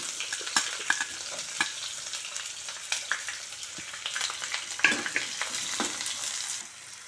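Cubed onions frying in a pan give off a steady sizzle, with scraping and stirring clatters scattered throughout, close and fairly loud.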